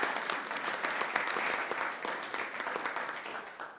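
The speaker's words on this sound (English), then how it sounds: "Just a round of applause, please, for these efforts." An audience at a city council meeting claps together in a full, even burst of applause that continues throughout and tapers slightly toward the end.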